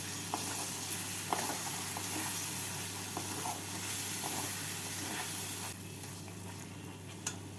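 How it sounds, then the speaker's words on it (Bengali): Egg laziz with cream and kasuri methi frying in a pan, a continuous close sizzle and hiss with occasional light spoon scrapes, steady throughout and slightly quieter near the end. "আর দিয়ে দেবো কাসুরি মেথি ভালো করে নাড়াচাড়া করে নিচ্ছি"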